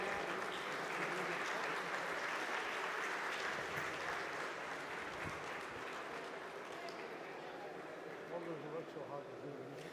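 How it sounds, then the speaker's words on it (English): Sustained applause from a conference audience at an ICAI UDAN event, steady dense clapping filling the hall throughout with a murmur of voices underneath. "can we have a huge round of applause for the Vijay Bhai"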